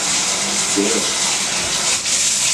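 Water from a tap gushes steadily into a bathtub as it fills, a constant broad hiss lasting throughout with a brief dip near the end and faint background sound.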